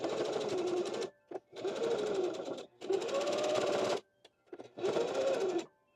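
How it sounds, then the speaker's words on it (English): A domestic sewing machine stitches three sides of a fabric pocket in four bursts of close, steady whirring, separated by short pauses and a few brief stops and starts. "Obviously, I'm only gonna sew the 3 sides of the pocket."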